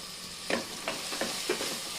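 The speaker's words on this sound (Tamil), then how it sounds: "இஞ்சி பூண்டு பேஸ்ட்டு பச்சை வடை போகிற வரைக்கும் வதக்கிடுங்க" Ginger garlic paste, green chili and curry leaves sautéing in a pan with softened tomato for mutton gravy, a steady sizzle with a few soft stirring scrapes.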